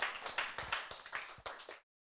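A short burst of applause from a small church group, rapid overlapping claps for under two seconds before stopping abruptly.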